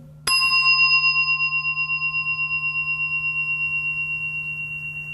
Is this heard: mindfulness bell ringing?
yes